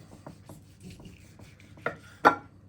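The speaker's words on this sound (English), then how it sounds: "Okay, the ham is rested. Let's cut some off of it." A knife slicing through a rested honey glazed ham, soft scraping strokes followed by two sharper knocks of the blade against the board, close and fairly quiet.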